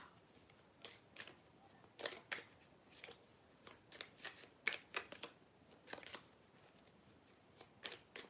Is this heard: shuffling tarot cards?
yes